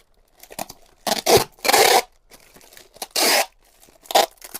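Packing tape is torn off in several sharp bursts and pressed onto a cardboard shipping box for an eBay order, with loud ripping strips between quieter crinkling and handling noises.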